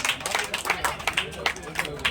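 Schoolchildren clap in a quick, steady rhythm at a school felicitation ceremony for the headmaster during a birthday celebration, the claps close and bright, with voices mixed in.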